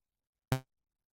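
A single short synthesizer stab with the envelope decay at 25% sounds once after a moment of silence. It hits sharply and fades out within a fraction of a second.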